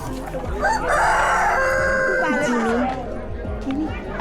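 A rooster crows loudly and close by at a village wedding, one long drawn-out call, while a voice talks alongside it.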